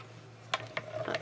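A die-cutting machine presses out snowflake shapes, giving a few faint mechanical clicks and a soft ratcheting rumble over a low steady hum, close by and quiet.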